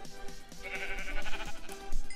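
Sheep in the Minecraft video game bleat in short wavering cries over background game music, a few calls close together at moderate volume.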